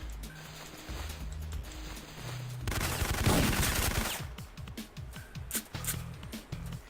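Gunfire in the PS1 game Syphon Filter during a speedrun, with bursts of rapid shots building into a dense crackling volley mid-clip, then scattered single shots and game effects.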